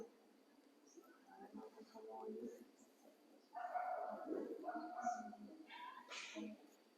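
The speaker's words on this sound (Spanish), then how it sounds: "Ahí está el perro." A dog barks and yips a few times at a distance, faint and intermittent, with quiet background noise and some indistinct voices.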